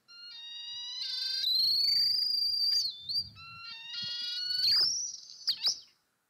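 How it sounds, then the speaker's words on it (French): A petrel in its breeding colony calls back and forth with a nearby loudspeaker, giving long rising and wavering whistled cries broken by short sharp notes, loud and close with no voices. "où l'on voit ce pétrel à gauche qui va chanter et qui répond à l'enceinte qui est juste à côté"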